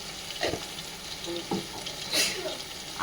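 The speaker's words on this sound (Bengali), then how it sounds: "আস্তে আস্তে কষতে থাকবেন" Ghugni sautés in a pan with salt and turmeric, sizzling steadily while a spatula stirs it in a few scraping strokes, close and clear.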